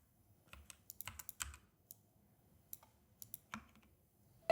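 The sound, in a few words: keyboard typing sound effect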